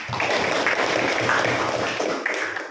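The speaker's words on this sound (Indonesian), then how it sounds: "Beri tepuk tangan." Primary school students in a classroom clap for classmates, a dense, continuous patter of hands that stays even throughout and fades slightly at the close.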